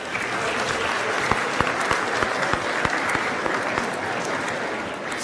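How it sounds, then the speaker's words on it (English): A room of people applauds a newly named ambassador at a formal event, steady sustained clapping from many hands with a few sharper individual claps standing out, fairly close and even throughout. "we'd like to all give him a round of applause and call him Ambassador Vaughn"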